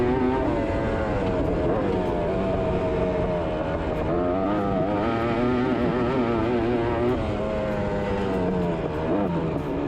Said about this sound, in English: Matt here is certainly not afraid to send it on his beloved ATC 250 here